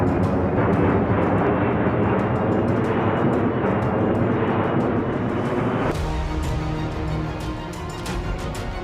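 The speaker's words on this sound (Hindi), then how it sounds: "आप मेरे ठीक पीछे ये तेजस विमान देख सकते हैं" A HAL Tejas, an Indian-built multirole fighter jet, roars steadily in a loud broadband rush that holds for several seconds before easing slightly, with no talk over it.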